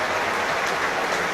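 Rugby league supporters of Hull FC and Wigan clapping together at a cup semi-final, a fairly quiet, continuous spread of applause heard from a distance, steady throughout with no talk.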